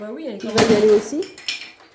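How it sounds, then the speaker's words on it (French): Small children emptying a toy chest at home, toys clattering and rattling in a dense burst of hard knocks near the middle, with French conversation running over it. "le bruit que vous entendez, c'est les petits qui vident le coffre"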